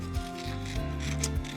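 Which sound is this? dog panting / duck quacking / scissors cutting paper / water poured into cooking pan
scissors cutting paper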